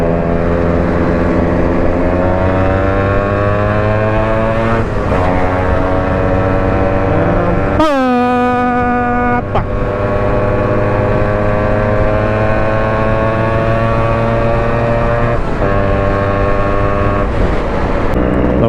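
Yamaha RX two-stroke motorcycle riding on a trip out of Bengaluru, its engine droning steadily with harmonic tones that rise and fall through gear changes and a sharp rev burst midway, loud and continuous with no talk.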